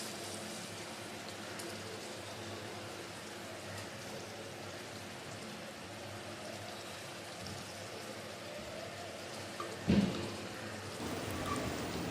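Katla fish simmers in a mustard and poppy seed curry sauce, giving a faint, steady bubbling hiss throughout, with a short knock near the end.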